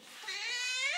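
One drawn-out meow from a house cat at feeding time, rising and swelling over about a second, fairly close and clear with no talk over it.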